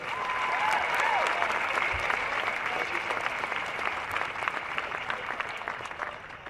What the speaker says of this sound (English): Y'all give her a hand clap.